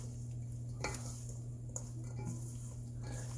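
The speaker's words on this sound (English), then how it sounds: "I'm just going to give this a good stir" A spoon stirring Italian pasta salad in a bowl, with a few light clinks and scrapes over a steady low hum, no talking.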